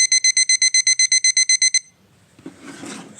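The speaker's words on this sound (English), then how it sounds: "So much beeping." A VADIV CL01 alarm clock just plugged in gives a rapid series of about fourteen loud, high electronic beeps in an even rhythm. Soft rustling handling noise follows once the beeps stop.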